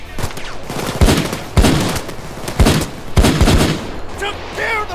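Gunfire in the video game PayDay 2 comes in repeated bursts of rapid shots, loud and close, with brief gaps between volleys and some game noise layered underneath.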